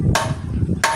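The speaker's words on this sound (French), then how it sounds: "le tintement du marteau sur l'enclume" Two loud metallic strikes of a hammer on an anvil in a forge ring out about 0.7 seconds apart, each a bright clang over a steady low rumble.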